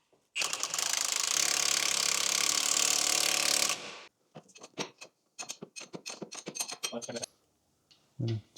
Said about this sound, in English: Let's go around and tighten up all the bolts now, tweaking them up.